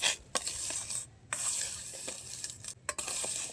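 Silver items are stirred as they boil in a pan, giving a continuous bubbling hiss with several clinking scrapes of metal on metal; no voices are heard.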